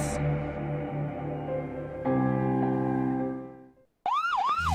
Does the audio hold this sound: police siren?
yes